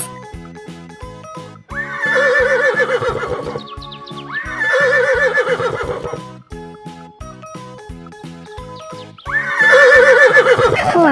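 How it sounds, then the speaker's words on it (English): A horse on a farm neighs in three loud, close whinnies spaced a few seconds apart over a soft musical backing. "Horse."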